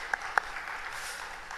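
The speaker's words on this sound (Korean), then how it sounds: "우리 수고하신 갈렙 찬양대 어른들께 박수 또 감사 인사드리겠습니다" A church congregation at a Wednesday prayer service in Korea applauds the elderly choir, a steady wash of many hands clapping, with a couple of sharper nearby claps at the start.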